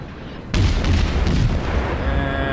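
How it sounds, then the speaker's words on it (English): Battleship guns firing in World of Warships, a sudden heavy boom followed by a sustained rumbling roar that fills the scene, loud and close. "So let's turn the broadside and let's return the fire."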